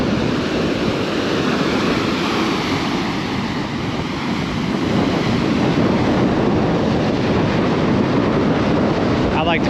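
Rough, wind-driven Atlantic waves crash and wash along an Outer Banks beach by a pier, a dense steady roar of surf with heavy wind rumble on the microphone, loud throughout and without speech.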